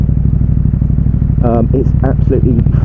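A KTM Super Duke R motorcycle idles loudly and steadily up close while being parked, its engine throbbing throughout as someone talks over it.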